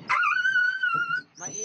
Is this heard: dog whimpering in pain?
yes